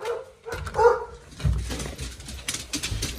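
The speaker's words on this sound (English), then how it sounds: "The dogs are gonna attack me." Pet dogs greet someone arriving home at Christmas, with short excited barks and whimpers close by, mixed with scuffling and movement noise through a few seconds.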